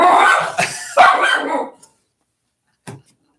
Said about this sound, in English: she's barking at I think she's barking at me.